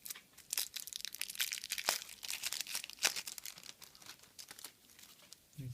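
A parcel of Yu-Gi-Oh! cards is torn open close by, its plastic packaging crinkling and crackling in irregular sharp bursts that fade to a softer rustle near the end.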